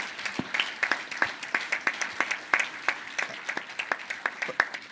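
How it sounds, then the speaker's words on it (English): Scattered, distinct hand claps from a conference audience applauding the organizing team at a health and climate change event, fairly sparse and irregular, moderately quiet with a roomy feel. "can we get like a round of applause for you and your team and Trin?"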